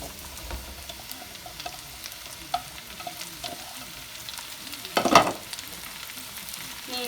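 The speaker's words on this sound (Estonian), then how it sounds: "Kui rasvained on potis kuumaks läinud, lisame seened, porgandi" Mushrooms and carrot fry in hot fat in a pot, a soft steady sizzle with scattered crackles and a louder burst of stirring midway, no voices.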